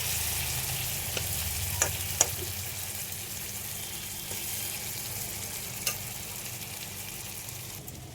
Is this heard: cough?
no